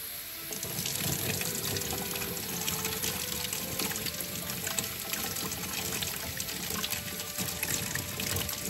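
Tap water running steadily into a container while hot cocoa is being made, a continuous close hiss and splash with no talk over it.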